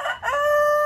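A rooster crows once, loud and close: a rough opening note that rises into a long, steady, ringing final call lasting about a second, with no other sounds.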